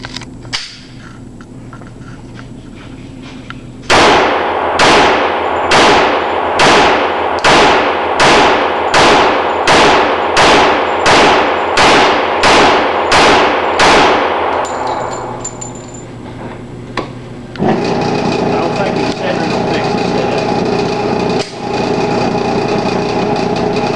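An FN FNP-45 .45 ACP pistol fires about a dozen loud, sharp shots in a quick, steady rhythm at 7 yards, each crack ringing briefly, followed by a short lull and then a steady background hum.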